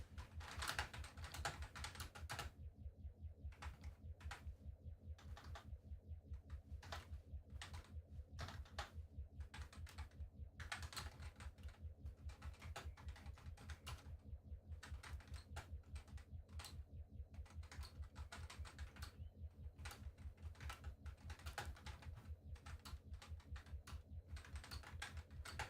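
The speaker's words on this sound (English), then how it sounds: "Done beavering away at the keyboard." Steady, rapid typing on a computer keyboard runs nearly throughout, close and clear, with dense rhythmic key clacks over a low constant hum, set during a livestream of the survival game Scrap Mechanic.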